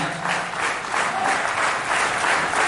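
A crowd claps steadily at a cycle rally reception in Sagar, the applause dense and continuous throughout, with no voices over it.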